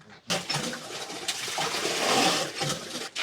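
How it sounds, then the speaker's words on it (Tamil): Water being poured into a borewell pipe at a house, a continuous loud rushing and gurgling splash that fills the whole stretch with no talk. "இப்போ பார்த்தீங்கன்னா அந்த பைப்புக்குள்ளே தண்ணி விட போகிறாங்க."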